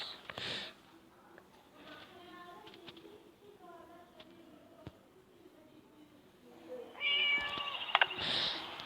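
A cat meows a few times in short, bright calls over game music and electronic chimes during a cat-rescue mission in the game Scary Teacher, ending in a louder burst of sound effects.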